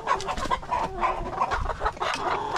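Hens clucking close by, a run of short overlapping clucks and murmurs in an irregular rhythm, moderately loud, with no talking.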